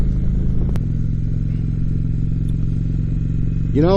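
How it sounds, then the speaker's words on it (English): A 2018 Indian Chieftain motorcycle idles through its stock exhaust with a steady low, throbbing rumble, a sharp clatter early on and a brief rev near the end. "the stock exhaust on this bike has a really nice sound to it"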